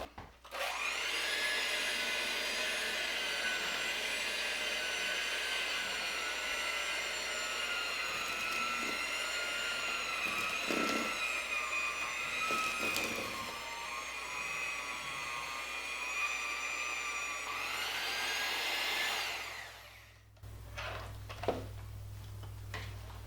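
An electric hand mixer whirs steadily through Coca-Cola cake batter for about twenty seconds, its pitch wavering as the beaters work the dry mixture, then cutting off abruptly before a few faint clatters.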